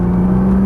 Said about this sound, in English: Squeeze that throttle.